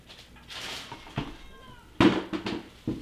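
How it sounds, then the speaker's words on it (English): A cat meowing indoors, a drawn-out wavering meow followed by a couple of short bumps or knocks, moderately close against a quiet room. "We hear we're getting cats going on right now."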